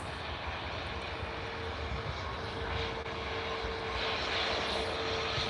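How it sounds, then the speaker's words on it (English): An Airbus A320neo airliner rolls on a wet runway with a steady, loud broadband engine roar and tyre hiss, swelling slightly toward the end, with no voices. "There's the Stockholm flight, the A320 Neo."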